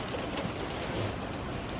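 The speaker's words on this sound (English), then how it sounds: "But pleasant little rain." Steady rain pours down during a thunderstorm on an American farm, a dense, even hiss of drops hitting surfaces that fills the whole moment without a break and with no voices.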